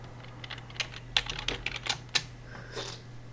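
Keys tapped on a computer keyboard while entering a search in Windows 10, a quiet run of irregular clicks, a few louder strokes, alone over a steady low hum.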